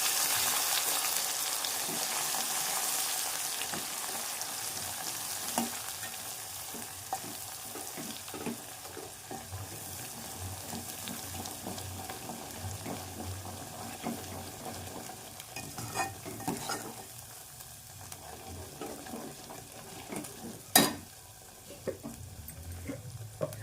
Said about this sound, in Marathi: आता छानपैकी सगळे मसाला तेल सुटेपर्यंत तळणार आहोत